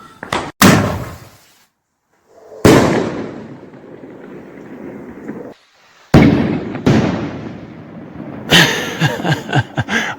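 Bonfire Night fireworks from shot tubes go off in loud close bangs with long rumbling echoing tails, followed by a quick crackling burst of several pops near the end.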